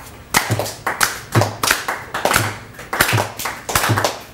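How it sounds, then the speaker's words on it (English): Audience members each clap to the rhythm of their own pulse, a group of moderately loud, slightly scattered hand claps repeating about twice a second in a room, with no talking. "I'm going to have you just clap to the rhythm of your pulse together"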